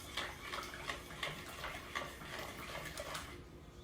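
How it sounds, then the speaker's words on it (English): A spoon stirs hot fudge sauce in a pot, scraping in a steady rhythm of about a dozen close, soft strokes that stop just before the end. "All I'm going to do is stir it."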